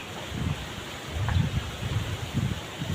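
Strong wind buffets the microphone in low, gusty rumbles over a constant rustling hiss.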